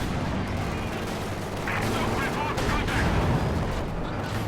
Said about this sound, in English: AT grenade goes off on the Strug